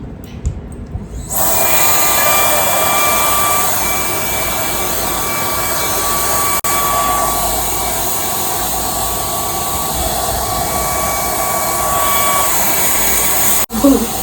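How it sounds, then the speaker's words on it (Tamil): A fast hair dryer switches on and blows with a loud, steady, close-up whoosh and a faint high whine. It runs continuously for over ten seconds, then briefly cuts out near the end. "இது வந்து ஒரு ஃபாஸ்டஸ்ட் ஹேர் ட்ரையர்னு சொல்கிறாங்க"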